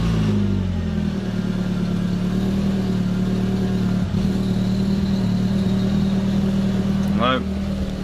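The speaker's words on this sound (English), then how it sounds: "When I just give it a little tap, it then gurgles." A car engine misfires and gurgles as it is briefly revved, a rough, uneven mid-pitched rumble close up, with a short rising rev near the end.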